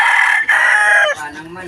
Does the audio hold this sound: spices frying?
no